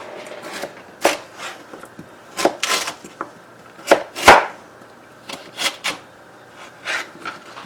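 A knife chops a sweet potato into fries on a board, giving a series of sharp, close cutting thuds in an irregular rhythm with quiet gaps between strokes.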